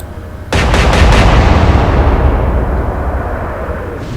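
A naval gun salvo fired in the Atlantic Fleet video game during an alternate Battle of Jutland, a sudden loud close boom with rapid overlapping reports that roll into a long fading rumble.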